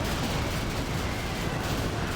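Dragon tanks fire in Command and Conquer: Generals, a dense, continuous roar of flame and explosive bursts that rumbles loudly throughout without any voices.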